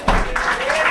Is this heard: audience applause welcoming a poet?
yes